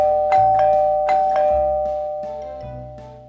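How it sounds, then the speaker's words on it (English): A ding-dong doorbell chimes twice in a quick pair of two-tone rings, clear and close, with the tones left ringing out and decaying in a quiet indoor space. "the doorbell rang"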